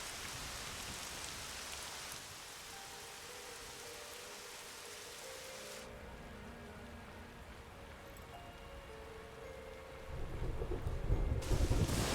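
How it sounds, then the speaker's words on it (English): A thunderstorm rolls through the video game Dragon Quest XI, steady hissing rain with low rumbling thunder that swells louder toward the end. "Storms are coming."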